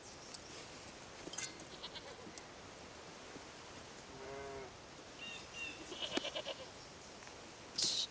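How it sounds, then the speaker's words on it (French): Goats graze outdoors and give a few faint, scattered bleats at a distance over a quiet rural background, with a couple of brief bird calls. "Y a pas meilleure tondeuse que ces chèvres."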